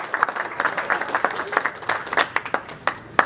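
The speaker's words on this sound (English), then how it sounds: "Let's give her a clap." An audience applauds in a room after a speech introduction, a crowd of claps with sharp individual hand strikes standing out, steady for a few seconds with no talking.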